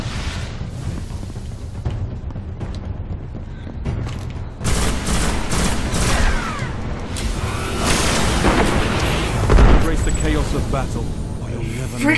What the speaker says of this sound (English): Why do you have to use the freaking shotgun?